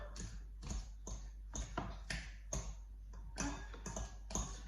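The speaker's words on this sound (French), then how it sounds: "on écrase le chou-fleur" Cauliflower being crushed for a soufflé, heard as a series of soft, repeated mashing taps and thumps with a steady, uneven rhythm, close and fairly quiet, with no talking.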